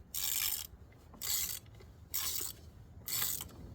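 A ratchet loosens a spark plug on a 2003 Chevrolet Trailblazer, giving four evenly spaced bursts of rapid clicking, each about half a second long, close and clear with no talking.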